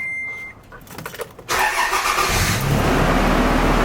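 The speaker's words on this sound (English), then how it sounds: "now we are finally ready to start the vehicle" A car engine cranks and catches after a power steering fluid change, the quiet start giving way at once to a loud, steady running roar that carries on alone.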